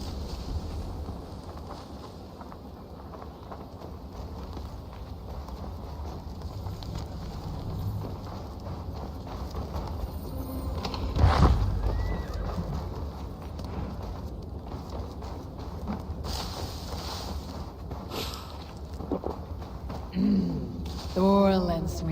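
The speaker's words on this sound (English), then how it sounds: "Now to deliver Magni his horse" Horse hooves clip-clop steadily over a rumbling ambient background, with a brief whinny-like cry near the end and some voices in between.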